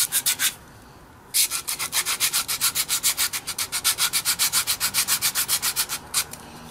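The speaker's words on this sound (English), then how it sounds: "This is just 150 sandpaper." A wooden dog toy is sanded by hand with 150-grit sandpaper in quick, even back-and-forth strokes, a close rhythmic scratching that pauses briefly once and then keeps going steadily.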